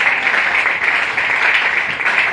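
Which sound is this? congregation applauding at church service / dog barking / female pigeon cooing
congregation applauding at church service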